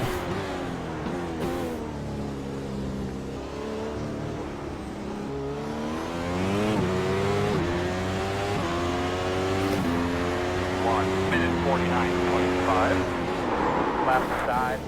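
A Formula 1 or GT3 race car engine in the iRacing video game at Spa, a loud, close, whining drone that rises in pitch through repeated gear shifts, with someone talking over it.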